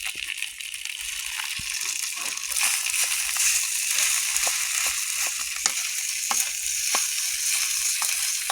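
Nasi goreng fried rice sizzles steadily in hot oil, cooked outdoors in a garden, with a constant bright hiss and occasional scraping clicks of a utensil, close and fairly loud with no talking.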